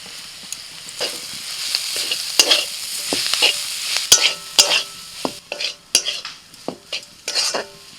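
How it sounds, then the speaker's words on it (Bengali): Spiced cauliflower paratha filling stirred in a frying pan: soft sizzling under repeated scraping and clattering of a spoon against the pan, irregular strokes, close and alone. "মানে এখনও একটু জল জলে ভাব আছে, আরও কিছুক্ষণ নাড়াচাড়া করবো"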